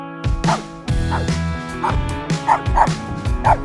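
A neighbour's dog gives loud, close barks and yips in a steady run, each bark sharp and repeated about every half second over a dense, harmonic-rich background, with no speech.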